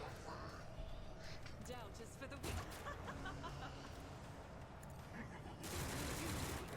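Rapid automatic weapon fire from a burst attack in the sci-fi strategy game Rogue Trader, a dense rattling volley running throughout over game ambience and effects, with a louder surge near the end while a voice talks over it.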